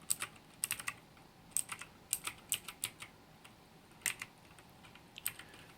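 Keys clack in quick, irregular bursts on a Zhuque+ mechanical gaming keyboard, crisp close clicks with short pauses between runs and no talking.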